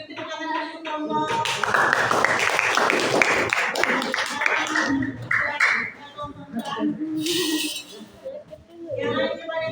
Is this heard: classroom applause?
yes